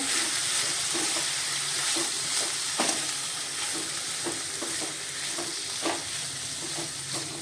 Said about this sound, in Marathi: आपण आता हे सर्व मिक्स करून घेऊया